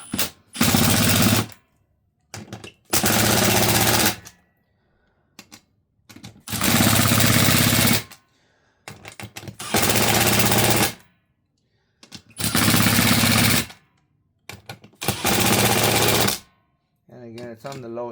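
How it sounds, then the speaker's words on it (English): A 1/4-inch impact wrench on its lowest setting tightens bead lock wheel bolts in about seven loud, close rattling bursts separated by short silent pauses. "I'm just gonna hit them with the 1/4-inch impact just to bring them down on the lowest setting."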